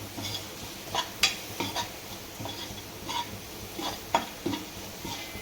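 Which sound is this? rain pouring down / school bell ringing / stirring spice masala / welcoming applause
stirring spice masala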